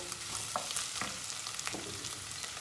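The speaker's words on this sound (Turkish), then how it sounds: "Soğanlarımız da iyice kavruldu." Onions fry in a pot with a continuous sizzle, broken by a few sharp stirring scrapes and clicks.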